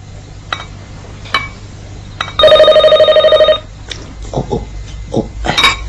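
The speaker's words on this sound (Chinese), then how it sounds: "去接个电话啊。" A telephone rings in a single loud, trilling burst of bell-like tones indoors, alone, with soft clinks and movement sounds around it and no talk during the ring.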